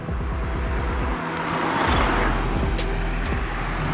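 A 2021 Mercedes-AMG A 35 sedan drives along a winding road, its engine note a loud, steady drone with shifting pitch, road and wind noise mixed in throughout.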